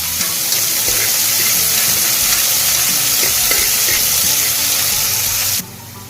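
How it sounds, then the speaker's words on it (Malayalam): Sliced onion sautéing in a pan, giving a loud, dense, continuous sizzle close by that cuts off abruptly near the end. "ഇനി ഇത് നമുക്ക് നന്നായിട്ടൊന്ന് വഴറ്റിയെടുക്കാം."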